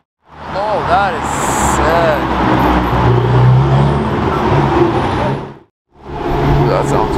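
A loud, close road vehicle roars past, with engine tones sweeping up and down and a heavy rumble sustained for several seconds. It cuts off briefly, then resumes. The source is a straight-piped V12 supercar exhaust, such as a Novitec 812 SF or Capristo Aventador S.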